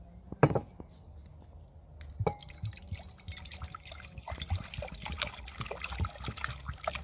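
Water is poured close by into a bowl to make a water bath for tempering chocolate, with a sharp clink, then a steady trickle and splashing drips that build over several seconds, with no talking.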